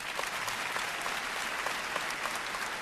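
A stand-up comedy crowd breaks into sustained applause, a dense, even wash of clapping that holds steady for a few seconds.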